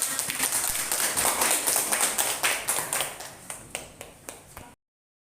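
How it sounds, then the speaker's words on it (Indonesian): Classroom applause of several people clapping rapidly, close and fairly loud, thinning into a few scattered claps before stopping abruptly. "Tepuk tangan."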